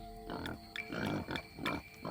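Near a crocodile's territory, a wild pig gives a series of quiet, rhythmic grunts that repeat steadily, faint and unaccompanied by talk.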